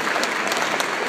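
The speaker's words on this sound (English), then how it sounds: "here come the Wigan Warriors coming out to warm up to a very rapturous applause from the away fans" Away rugby league fans at Langtree Park applaud the Wigan Warriors as they come out to warm up, a close, dense patter of clapping with a few sharper claps standing out.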